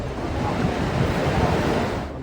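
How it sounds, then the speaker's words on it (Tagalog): Heavy rain from the ITCZ pours with strong gusting wind in the Philippines, a dense continuous roar of broadband noise with rumbling low buffeting, steady throughout before easing slightly. "Kasabay ng buhos ng ulan ang malakas na bugso ng hangin"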